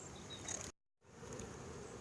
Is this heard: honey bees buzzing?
yes